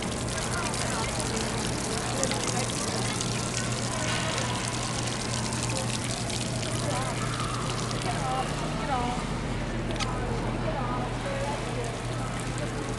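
Water splashing and pouring at a hands-on water exhibit in the Exploratorium science museum in San Francisco, a steady wet wash with gurgles and trickles, busy museum crowd noise and a low hum underneath, voices chattering throughout.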